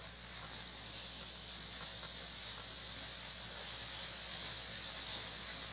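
Julienned green onion whites, cut six centimetres long, are lightly stir-fried in a pan for japchae, giving a soft, steady hissing sizzle that holds evenly throughout without talk.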